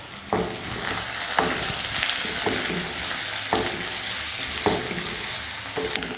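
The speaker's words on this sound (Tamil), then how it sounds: "வெங்காயம் வதங்கிருச்சு." Onions, green chilies and curry leaves frying in hot oil with mustard seeds, a steady loud sizzle broken by repeated scrapes of a spoon stirring the pan, heard alone without talk.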